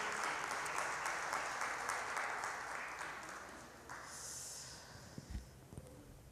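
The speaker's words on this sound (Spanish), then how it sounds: "Vamos a darle un aplauso al Señor" A church congregation applauds for the Lord, a dense round of clapping that swells and then gradually fades, with a few scattered louder claps and thumps near the end.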